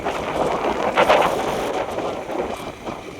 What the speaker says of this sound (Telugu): ఎదురొచ్చింది కదా గాలి ఇప్పుడు ఇటు పక్కకు దోస్తుంది